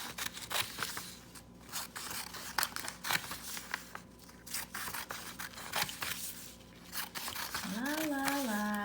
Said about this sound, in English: I'm going to cut the dashed line to the center only.